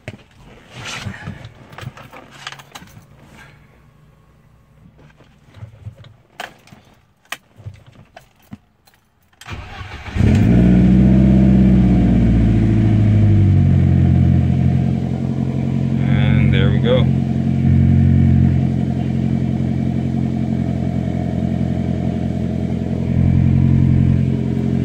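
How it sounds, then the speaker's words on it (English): After some quiet clicks and jingling, a BMW E30 with a turbocharged M42 engine cranks, fires and keeps running at a steady, loud idle for a long stretch, with brief talk early on. "Pretty much what I'm gonna do now is just go ahead and start the car."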